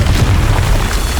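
A Confringo spell explodes in Hogwarts Legacy as one loud, close burst whose roar carries through the whole short moment, with no voices.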